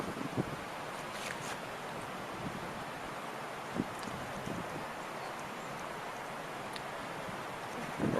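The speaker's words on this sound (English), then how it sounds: "Around over here is the river. You can hear it." Rough river rushing beyond woodland at a Southwest Virginia state park, a faint, steady broadband wash of water heard from a distance with no speech.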